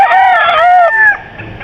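A Sweater Gray gamefowl rooster at a farm lets out a single loud, close crow lasting under two seconds, then goes quiet.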